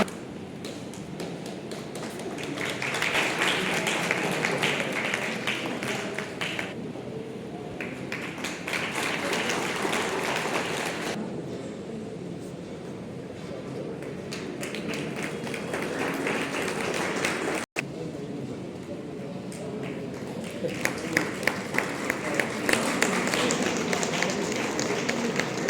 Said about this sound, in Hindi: जोरदार तालियां बजा करके स्वागत करें श्री पवन कुमार भारद्वाज